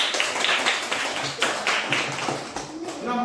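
Fifth-grade classroom clapping for group 1, a short burst of children's hand claps with loud individual smacks close by, fading toward the end as a voice starts.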